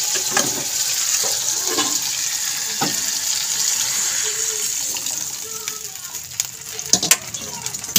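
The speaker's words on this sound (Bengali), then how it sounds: "এবার আমি আগে থেকে যে গরম জলটা রেডি করে রেখেছিলাম, তো সেটা আমি এবার এর মধ্যে দিয়ে দিই" Hot water pours into a spiced fish curry cooking in a pan, a steady sizzling hiss with bubbling and stirring scrapes, close, with a few clinks toward the end and brief speech.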